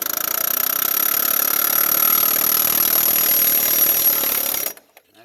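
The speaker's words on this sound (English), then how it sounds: "you're just taking a air hammer with a long bit and just kind of breaking it loose" An air hammer with a long bit rattles against a stuck fan clutch on a Ford diesel engine, a loud, continuous high-pitched buzzing hammer that runs for several seconds and then cuts off abruptly into near silence.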